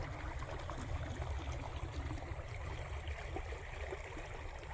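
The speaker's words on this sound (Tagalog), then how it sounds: "Yan, tubig." Clear water flows in a stream on a farm with fruit-bearing trees, a steady soft rushing and gurgling that continues evenly and fairly faintly throughout.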